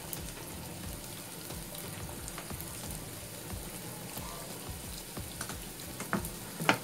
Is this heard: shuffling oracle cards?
no